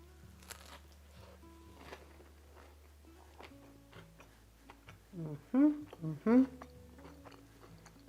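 Someone bites into crunchy fathead pizza crust and chews it, with a few close, loud crunching bites among quieter chewing and light clicks.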